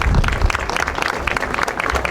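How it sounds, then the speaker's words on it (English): A crowd applauds the Wonder Wheel's 100th anniversary at an outdoor amusement-park ride blessing, with dense, loud, continuous clapping throughout. "So a huge round of applause for the Wonder Wheel 100 anniversary."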